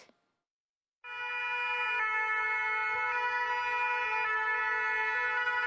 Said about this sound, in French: Les sirènes ont retenti pour Ryan.